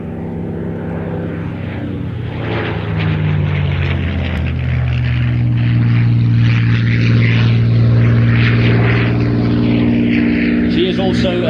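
A Supermarine Spitfire marked with Soviet red stars, built at the Vickers Armstrong factory at Castle Bromwich, drones overhead with its propeller engine, the tone rising and swelling louder as it nears, then holding steady, loud and continuous.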